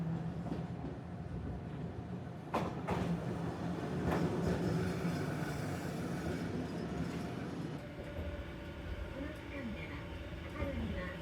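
A Randen tram in Kyoto rolls along its rails, a steady, moderately close rumble with a few sharp clatters and faint squeals as the car moves.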